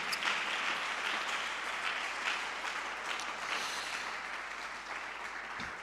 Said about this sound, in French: Est-ce qu'on peut acclamer le Seigneur pour que je puisse entendre et que l'Église entende?